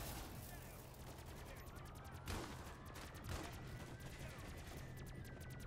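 Gunfire in Call of Duty MWZ, a multiplayer zombies video game: rapid automatic bursts rattle under a constant bed of game noise, with a couple of louder shots standing out.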